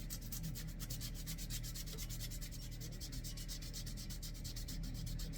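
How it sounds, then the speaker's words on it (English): Rough-grit sandpaper rubbing a handmade wooden fishing lure outdoors, a rapid, rhythmic scratching of quick back-and-forth strokes, close and continuous. "Gonna smooth and round her out here with the rough grit."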